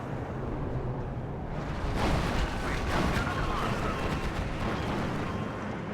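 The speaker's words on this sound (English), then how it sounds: "And we are calling in some artillery." Artillery barrage in a WARNO Star Wars mod real-time strategy game, heard as a dense, continuous rumble of distant booms and blasts that swells after the first couple of seconds and stays steady to the end.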